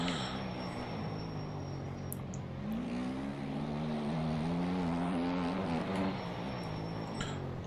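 A propeller aircraft engine drones steadily in a video game flight, a continuous buzzing hum that swells slightly in pitch partway through, with a couple of faint clicks.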